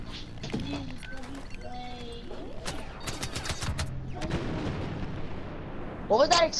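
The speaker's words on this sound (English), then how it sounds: "Just me exploding your infantry turret." An infantry turret explodes during a private match of a video game, a loud broadband blast near the end following a stretch of game noise with clattering bursts and voices talking over it.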